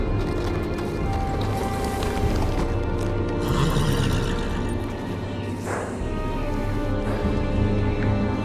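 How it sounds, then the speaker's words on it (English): A horse in a Game of Thrones video game, with hoof clops and a neigh over a dense, loud game soundscape, fairly close. "On a horse, no less."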